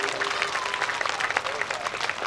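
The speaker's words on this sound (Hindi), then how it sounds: "परिवार के लिए तालियां।" Audience applause at a Shrimad Bhagavat Katha religious discourse in Prayagraj, a steady, dense patter of many hands clapping throughout, fairly distant, with a voice faintly audible underneath.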